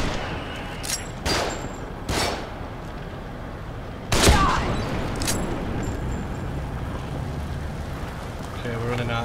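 Enemies in The Evil Within fire down from above, sharp gunshots cracking out at intervals, with a louder close blast near the middle and a lingering noisy tail, while someone talks underneath.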